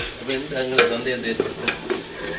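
Chopped onions and tomato frying in oil in a pan for biryani, a steady close sizzle with stirring and occasional scraping clicks throughout.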